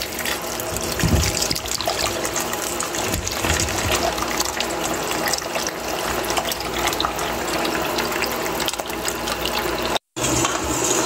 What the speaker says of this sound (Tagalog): Ayan, lalagyan natin ng tubig.